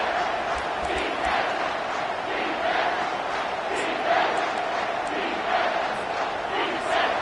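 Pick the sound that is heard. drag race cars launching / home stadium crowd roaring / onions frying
home stadium crowd roaring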